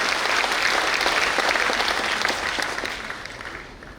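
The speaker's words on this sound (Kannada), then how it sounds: "ದಯವಿಟ್ಟು ಅವರಿಗೆ ಕೈ ಚಪ್ಪಾಳೆ ಮೂಲಕ ಅವರನ್ನು ಅಭಿನಂದಿಸೋಣ" An audience at an inaugural event for four new community halls in Mangaluru gives a burst of dense, steady applause that holds strong and then gradually fades toward the end.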